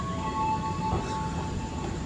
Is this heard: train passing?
yes